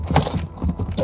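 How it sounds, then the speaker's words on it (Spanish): Horses gallop in a video game, close hoofbeats in a quick uneven clip-clop rhythm that fills the short stretch, with no talking over it. "Acá están los caballos."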